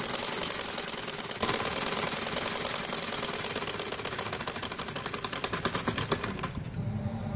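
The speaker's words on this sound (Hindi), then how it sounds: "अब मैं सारी सिलाई करूँ दूसरी साइड की।" A sewing machine stitching the waistband casing of a salwar runs in a fast, steady mechanical clatter, close and continuous, then stops abruptly near the end.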